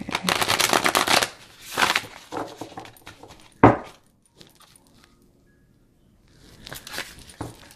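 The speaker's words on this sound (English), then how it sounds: "let's just take a look-see here at how well they shuffle" Oracle cards from a Mystical Shaman Oracle deck being shuffled by hand, with brisk riffling bursts near the start, a sharp slap midway and a quieter shuffle at the end, separated by near silence.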